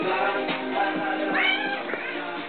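A pet cat meows repeatedly at feeding time, several drawn-out, rising and falling cries in quick succession, close and clear with no talking.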